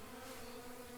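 Honey bees buzzing inside a hive box after a cold, wet winter, a faint, steady drone throughout with no talking.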